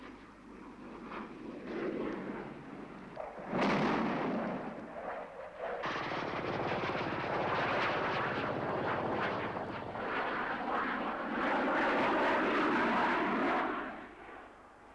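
SEPECAT Jaguar jet aircraft flying low and close to the ground, a loud, continuous roaring engine rush that swells after a sharp onset and holds steady for several seconds before easing off.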